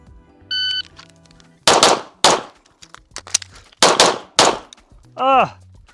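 Shots striking steel targets during a timed drill with a carry belt, several sharp close gunshots in uneven bursts mixed with metallic clangs and dings, plus a beep.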